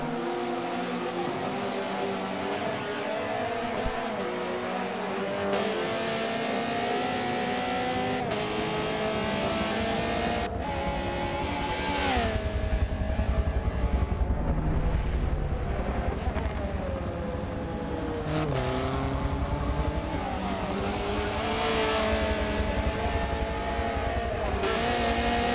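Race cars tear around a circuit in the Hart Racing Challenge, engines whining and shifting pitch as they pass close, loud and continuous with repeated rising and falling sweeps.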